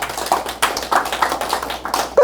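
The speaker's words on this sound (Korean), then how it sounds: "한번 박수 한번 쳐야죠" A congregation at a religious sermon gives a short burst of applause: a few seconds of scattered, moderately close hand claps with uneven rhythm.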